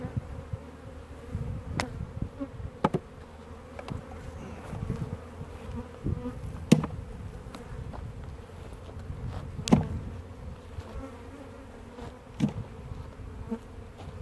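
Steady low buzzing of many honeybees in a hive after swarming, a continuous droning hum with a few brief louder passes close by.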